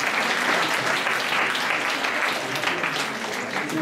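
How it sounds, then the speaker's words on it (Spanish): Steady, full applause from a seated audience at a Spanish-language academic event, continuous dense clapping of even loudness that carries on throughout. "Pues les damos un fuerte aplauso,"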